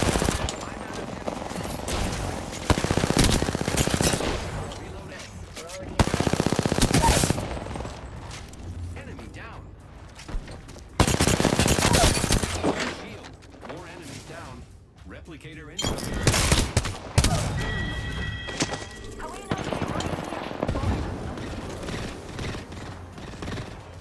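Loud bursts of automatic gunfire and scattered shots ring out in an Apex Legends ranked match, arriving in repeated clusters between quieter gaps, with a player's voice talking over parts of the action.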